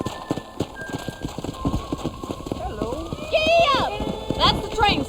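Rhythmic clip-clop of horse hooves trotting steadily at a moderate distance in the video game Red Dead Redemption, with bird-like chirps and a brief call rising near the end.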